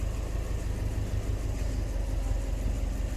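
A car engine idling at low rpm, running rich and rough, with an uneven, slightly stumbling low rumble that stays steady and fairly quiet throughout, with no talk over it.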